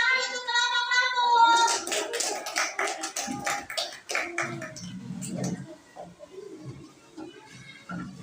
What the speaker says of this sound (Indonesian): Tepuk tangan untuk kelompok lampu.